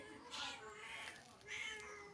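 A mother cat meows repeatedly while searching for her kitten, drawn-out calls at moderate distance, with people talking over them.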